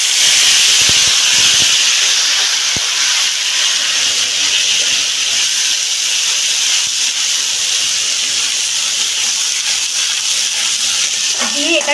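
Spice paste hits hot oil with whole cumin and a dried chili for a prawn muitha dish, giving a loud, steady, close sizzle and hiss throughout, with a few small clinks near the start.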